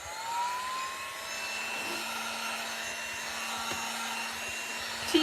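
Hair dryer blowing on painted Dollar Tree wooden planks for a craft project, a steady continuous whirring hum close up with a slight click at the end, no talking.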